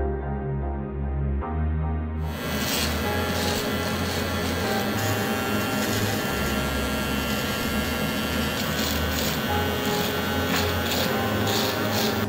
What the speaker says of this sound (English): I'm using my exposed razor by StyleCraft Pro. It goes straight in like this.